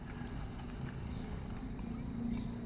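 A motorcycle engine that had been sitting in storage, with a rusty tank and a faulty carburetor, idles with a steady low, throbbing rumble, close by and constant.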